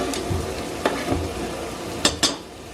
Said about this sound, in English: now the onions are going in